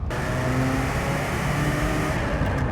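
A Ferrari F40's engine pulls hard on the road under half throttle, a loud steady mechanical roar with a rising tone heard from inside the car.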